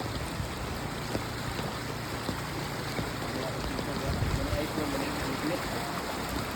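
Typhoon Basyang floodwater rushing along a street, a loud continuous broadband roar of flowing water that fills the scene.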